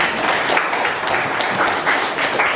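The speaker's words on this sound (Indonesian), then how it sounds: "Tepuk tangan buat kalian." A classroom of students claps steadily together, a dense, even applause sustained throughout.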